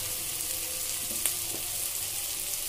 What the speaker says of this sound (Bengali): মশলাটাকে খুব ভালো মতো কষিয়ে নেব